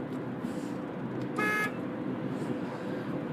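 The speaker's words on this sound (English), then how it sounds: "I haven't beeped at anybody in a long, long time." A single short car horn beep sounds once, clear and fairly close, over a steady low background hum, while driving into Coquille, Oregon.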